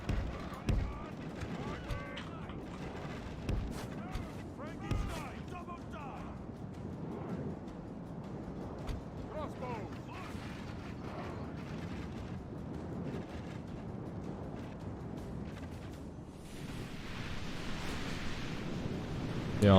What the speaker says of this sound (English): The archer fire coming in hot.